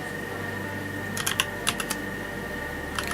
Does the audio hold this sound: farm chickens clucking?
no